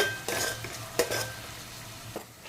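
Curry leaves frying in a pan and being stirred, with a few scraping spatula strokes over a low, steady sizzle, fairly close.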